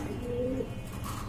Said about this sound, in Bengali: দেখেন টানা পায়ের কবুতর কিন্তু